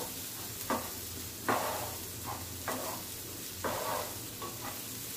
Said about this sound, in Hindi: तो पण आपण चांगला तेलात परतवून बटर मध्ये परतवून घेऊ